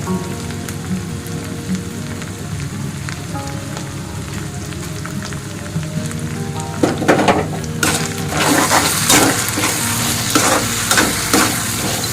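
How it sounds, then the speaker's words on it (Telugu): Masala stirred and fried in a pan for bagara rice and chicken curry fry, a steady sizzle with spoon scrapes that grows louder and crackles more densely toward the end, with no talking. "మధ్య మధ్యలో ఇలా తిప్పుతూ ఉండండి ఎందుకంటే మాడిపోకుండా అడుగంటుకుండా ఉంటుంది మసాలా"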